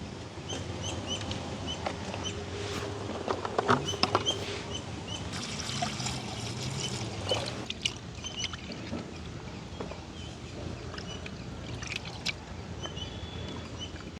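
Dried anchovies are washed by hand in water, with continuous splashing, swishing and trickling close by alongside scattered small knocks, outdoors in a village setting.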